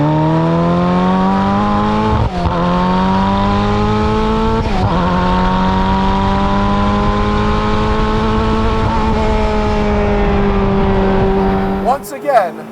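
A Czinger 21C high-downforce hypercar, with a 2.88-liter twin-turbo V8 and tri-motor hybrid system, drives loudly on track. The engine holds a high drone with brief dips at gear changes, and a rough burst comes near the end.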